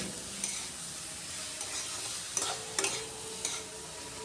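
Radish pieces with spices being stir-fried in a pan, a quiet steady sizzle with a few sharp clinks and scrapes of the spatula against the pan.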